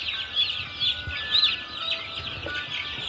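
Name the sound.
cock chicken clucking while its beak is burned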